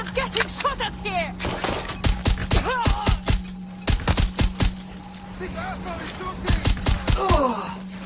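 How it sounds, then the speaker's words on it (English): Gunfire in Watch Dogs: Legion comes as sharp, loud bursts of shots spaced through the stretch, with talking and groaning voices between them and a steady background hum. "Gunfire! I'm getting shot at here!"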